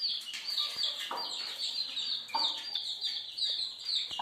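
A hen and her chicks cluck and peep steadily while feeding together, with peachicks nearby, the busy chirping and soft clucks layered close and continuous over the whole stretch.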